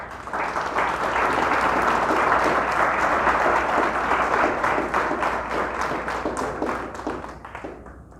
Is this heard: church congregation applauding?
yes